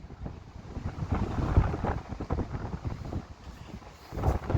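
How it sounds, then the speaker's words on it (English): Strong wind buffets and roars at the top of a fire tower, gusting unevenly and rumbling against the microphone throughout. "where's all this wind coming from?"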